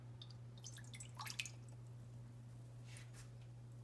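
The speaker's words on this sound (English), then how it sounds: "this is my regular Coke. And I'm going to pour it" Regular Coca-Cola being poured onto a heated surface gives faint, scattered drips and soft wet sizzling squishes over a low steady hum.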